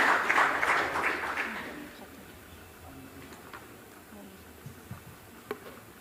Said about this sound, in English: give a big round of applause to all the awardees who received the award.